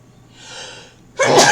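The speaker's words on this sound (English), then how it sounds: "I think I'm going to sneeze." A single sneeze: a soft drawn-in breath followed by a sharp, loud, close burst.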